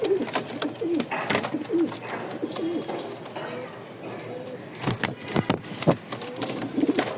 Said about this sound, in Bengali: কালো একটা মাদি লাহোরির জোড়া দেওয়া পাগলা ডাক।